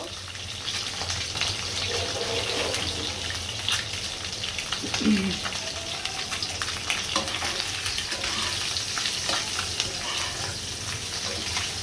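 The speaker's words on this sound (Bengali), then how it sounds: "ডিমগুলো আমার ভাজা হয়ে গিয়েছে।" Eggs fry in oil in a wok, a loud, steady close sizzle with scattered crackles and occasional scraping from stirring, heard alone without talking.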